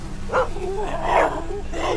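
A dog barking and whimpering in the video game The Walking Dead Season 2, a few short yelping vocalizations close up over a low background hum.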